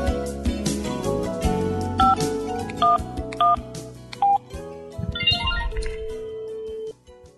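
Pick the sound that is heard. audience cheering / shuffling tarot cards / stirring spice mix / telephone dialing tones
telephone dialing tones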